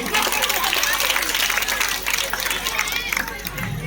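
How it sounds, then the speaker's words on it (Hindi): A crowd of village women applauding at a Teej celebration, loud dense clapping that continues steadily with background chatter, easing slightly toward the end. "तो एक बार जोरदार तालियां बजा दीजिए।"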